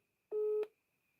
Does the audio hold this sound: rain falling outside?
no